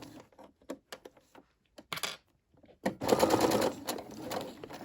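A Brother SE600 sewing machine backstitches a seam on a two-toned party sash: scattered handling clicks first, then a close, steady burst of stitching at the end.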